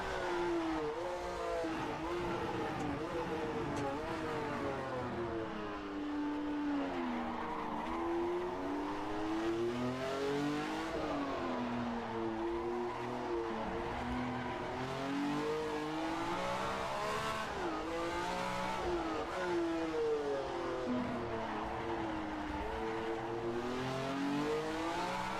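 A 1967-era Formula One race car in a video game at the Pescara road circuit, engine whining up and down steadily through gear changes and braking, loud and continuous with no talking.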